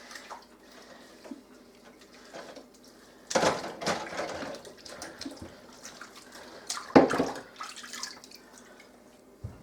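Canning jars and rings being swished back and forth in water, giving intermittent splashing and sloshing with a couple of louder surges and light clinks.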